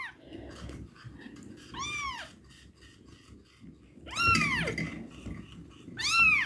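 Hungry foster kittens meow in high, rising-and-falling cries, three or four bursts spaced across the stretch, the last ones loudest and nearest, over faint indoor rustling.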